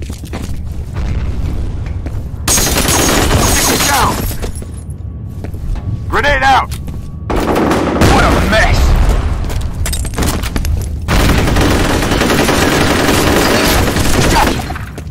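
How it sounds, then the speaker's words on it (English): Grenade blasts and gunfire in the video game F.E.A.R. Combat, loud booming bursts and crackling shots arriving in several heavy waves separated by quieter gaps, with a voice talking over parts of the action. "Grenade out!"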